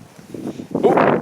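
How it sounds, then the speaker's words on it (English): Wind blowing outdoors past a kart under construction, a soft rustle that swells into a louder, steady broadband gust in the second half of the brief moment. "Oh, that's the wind."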